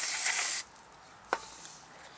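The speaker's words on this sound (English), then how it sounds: "We'll shoot this with carb clean." Short burst of carburetor cleaner sprayed onto a snow blower carburetor, a close, loud hiss lasting about half a second, then quiet with a faint tap.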